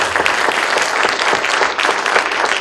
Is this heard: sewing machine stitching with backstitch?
no